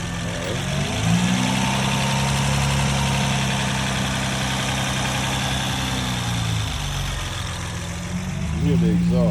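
A 2011 Honda Accord with muffler and resonator deleted idles with a steady low droning exhaust note, close and loud, while someone talks over it.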